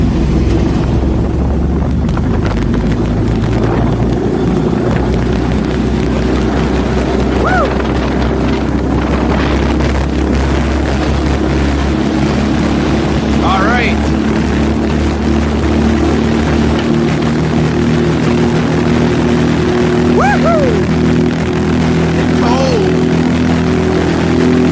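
A Kawasaki Mule fitted with a 440cc Duromax engine drones loudly and continuously as it runs at top speed on a road, with rising whines in the engine note, and a voice is briefly heard over it.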